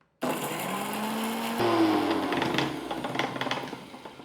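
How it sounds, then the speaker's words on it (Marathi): A mixer grinder coarsely grinds green chillies, ginger and garlic for thecha, its motor starting abruptly and whining steadily for about four seconds, the pitch shifting midway as the load changes, close and loud with no talking. "इथे दोन तीन हिरव्या मिरच्या आलं आणि लसूण घेतलं आणि मिक्सरमध्ये हे ओबडधोबड वाटून घेऊया"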